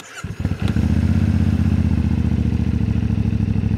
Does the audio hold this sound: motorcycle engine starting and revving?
yes